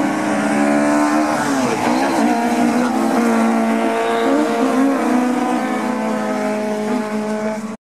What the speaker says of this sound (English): Larry, and it's got a little bit quiet out there on track, but all the cars just down there at Hawthorne.